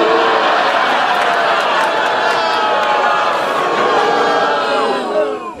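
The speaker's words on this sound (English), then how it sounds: "What is everyone booing at?" A large, loud crowd roars continuously in a dense wall of voices that sounds like booing and jeering, sustained throughout before dipping at the end.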